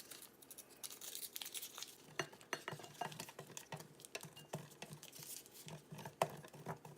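Cold butter scraped across a box grater into a bowl of flour, salt, sugar and baking powder for a homemade butter roll dessert, giving a steady rasping, crinkly patter with sharper scrapes and clinks close up, no talking.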